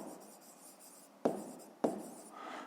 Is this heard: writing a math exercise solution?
yes